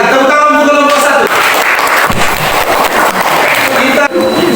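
Classroom applause for a student group in a vocational school maths lesson, brisk clapping from many hands, loud and close, following a voice and lasting a few seconds.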